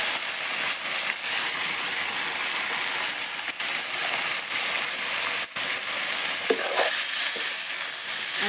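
Vegetables and dal fry in a wok, with pumpkin, papaya, potato, taro and soybean chunks in the mix. A steady, dense sizzle runs unbroken at close range with no talking.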